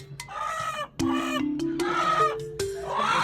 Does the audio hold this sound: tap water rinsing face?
no